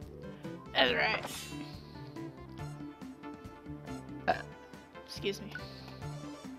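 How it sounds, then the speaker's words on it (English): A sore-throated streamer playing a 3D RPG lets out a short, close burp over game music, with a couple of softer throaty bursts following later in the clip. "Burping hurts very bad with a sore throat."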